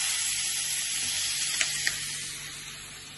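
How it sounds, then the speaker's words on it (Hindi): Onion and garlic sautéing in a pan give off a soft, steady hiss that holds evenly throughout, broken by a couple of brief light clicks near the middle. "थोड़ा सा प्याज और लहसुन को मैं सौते कर रही हूँ"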